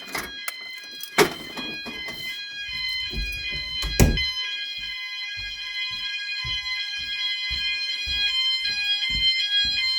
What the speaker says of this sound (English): You'll hear the alarm sounds very cool. The sounders don't synchronise.